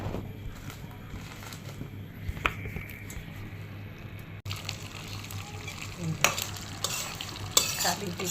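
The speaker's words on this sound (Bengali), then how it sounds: "কালিজিরা, রসুন আর কাঁচামরিচ দিয়ে এটাকে ভাজা ভাজা করে নিলাম।" Kalijira, garlic and green chilli fry in a pan for bhorta, a continuous soft sizzle under scraping stirs, with louder stirring clatter toward the end.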